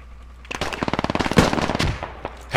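In a video game shooter, a rapid burst of automatic gunfire cracks out close and loud, with a string of evenly spaced shots over about a second and one heavier report near the end.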